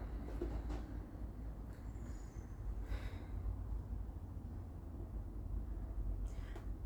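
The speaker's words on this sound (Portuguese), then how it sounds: "Não, é só esperar o caminhão do lixo passar." A garbage truck rumbles past on a street, a steady heavy low engine drone that holds at even loudness throughout, with faint higher hiss on top and no speech.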